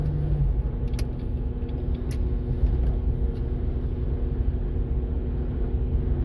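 A 2005 Jaguar X-Type drives along a road, its engine and tyre noise forming a steady, low rumble inside the cabin with no talk.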